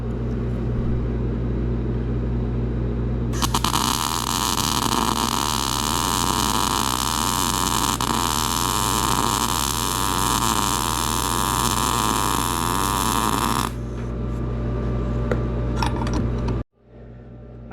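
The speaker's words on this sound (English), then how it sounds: "Cut this on, get to arcing and sparking." A Lincoln MIG welder arcing during a weld, a steady loud crackling buzz that lasts about ten seconds and then cuts off, over a constant low hum.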